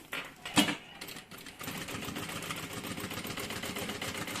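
Sewing machine stitching a trapeze-shaped bag, starting with a few short clicks and a brief burst, then settling into a steady close mechanical whir for the last few seconds.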